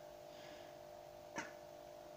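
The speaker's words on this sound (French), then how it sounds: "il y a mon chat qui miaule" A house cat gives a single short meow at a distance, faint against a steady indoor background hum.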